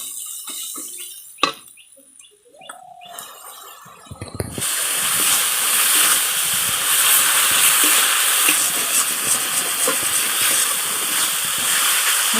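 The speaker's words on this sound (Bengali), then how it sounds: "দিয়ে আমি মশলাটার সঙ্গে ভালো করে কষিয়ে নেব।" Spice paste with turmeric and chili powder hits hot oil for a jackfruit-and-prawn curry, bursting into a loud, steady hiss after a few quiet clinks, then sizzling continuously up close with no talking.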